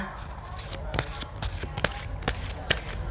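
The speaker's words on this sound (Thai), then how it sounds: "ก่อนอื่นต้องขอสับไพ่แล้วก็เปิดไพ่ทั้งหมด 12 ใบนะคะ" Tarot cards being shuffled, with repeated crisp riffling and sharp slaps of the deck at irregular intervals, heard up close alone.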